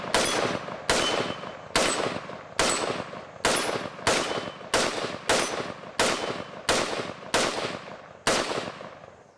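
An AR-pattern rifle fires a string of about twelve sharp, loud shots at a steady pace, each crack followed by a ringing decay, outdoors with no talking.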